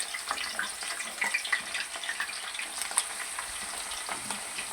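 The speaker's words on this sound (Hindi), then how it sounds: "अब मैंने बैंगन फ्राई करना शुरू कर दिए हैं।" Eggplant slices frying in a pan for an aloo baingan dish, a steady close sizzle with faint crackles and occasional stirring, no voices.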